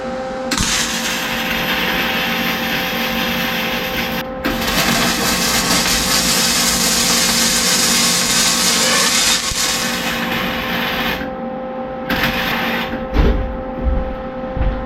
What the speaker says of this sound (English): This MIG works so good.